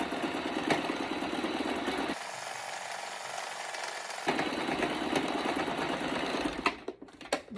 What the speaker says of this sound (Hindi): आप इसको पकड़ के आपस में आप सिलाई लगा दें।